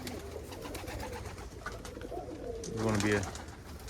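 A young homing pigeon coos softly amid other birds, with a person talking nearby over the low cooing.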